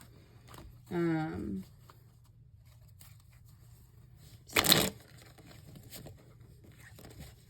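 Tarot cards shuffled in a brief burst, a single loud riffle-like rustle standing out from quiet room noise, with a short spoken word and light handling sounds nearby.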